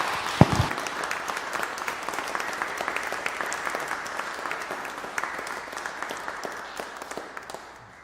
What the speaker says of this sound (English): please can we give Miriam another massive round of applause